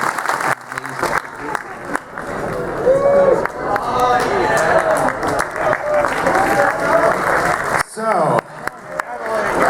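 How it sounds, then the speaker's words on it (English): A round of applause for volunteers at a camp event, with scattered clapping under a crowd's cheers and chatter, punctuated by brief dropouts and a short spoken word near the start. "Can we please have a round of applause for our volunteers?"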